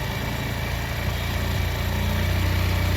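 A motorcycle engine runs steadily after its carburettor air screw is loosened, a continuous loud engine drone with a slight swell in pitch and level as the revs climb, heard alone.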